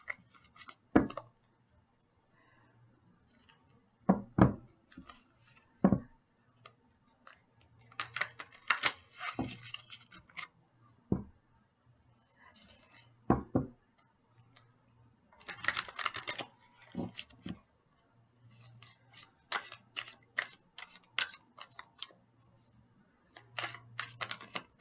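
Crisp papery clicks and riffles of tarot cards being shuffled, in irregular bursts with quiet gaps, close up, with no talking.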